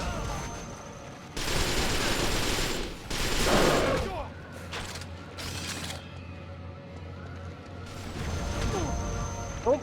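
Rapid Bullseye rifle fire in the Resistance 3 shooter comes in several loud bursts, with mechanical clanks and game effects between them and a player talking briefly.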